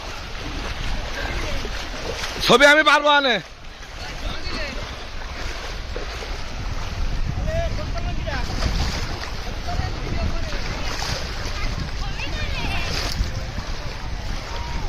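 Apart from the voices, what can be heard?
sea waves at a beach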